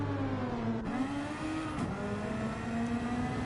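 An IndyCar in a racing video game pulls out of the pit lane, its engine holding a steady mid-pitch drone with a brief shift around one second, continuous and fairly close.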